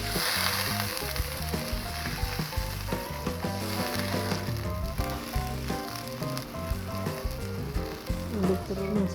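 Sizzling semur jengkol in a pan with water being added, a loud continuous frying hiss and bubbling with scattered clinks and stirring knocks throughout.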